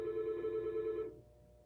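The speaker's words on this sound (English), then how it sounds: "the phone was ringing" A telephone rings indoors with one steady, buzzing ring lasting about a second before it cuts off, leaving a quiet room tone.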